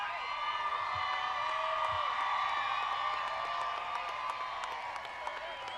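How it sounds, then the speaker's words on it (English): A large crowd at a high school graduation applauds and cheers in a sustained, dense wash of clapping and voices, steady throughout and somewhat distant. "will everyone please stand and join me in a huge round of applause"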